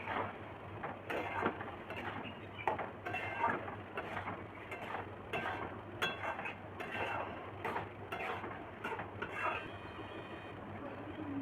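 Egg tarka, a lentil dish with fried egg, stirred in a pan on a home stove: a steady stream of quick clinking, scraping spoon strokes against the metal, close and fairly soft over a low hum.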